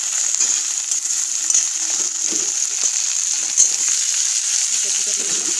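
Chopped onions frying in a small amount of oil in a kadai for a rohu fish and raw banana curry: a steady, bright hiss of sizzling oil holds for several seconds, with faint stirring and scraping underneath.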